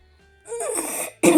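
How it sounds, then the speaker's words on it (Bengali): Coughing from a cold, two close, harsh coughs in a quiet room, the second sharper and louder, with no speech. "সকাল সকাল স্নান করলেও কাশি টাশি হয়ে যায়"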